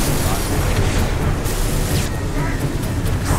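Rocket launcher blast in the Halo video game, a loud sustained rumbling boom filling the whole clip with crackling debris, with a voice talking faintly underneath.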